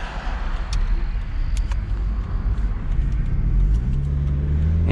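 A 2008 Toyota Prius Grand Touring pulls away, heard from inside as a steady low engine and road rumble that builds gently, with a rising tonal hum appearing toward the end.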